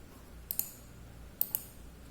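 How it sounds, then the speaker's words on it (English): A computer mouse is right-clicked in a quiet room, giving two pairs of crisp, faint clicks about a second apart. "when you click on right click, if you right click here"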